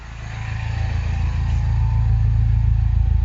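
A steady, low engine rumble from an R56 Mini Cooper S runs throughout, idling evenly with a slight rise in level early on, close by and with no talking.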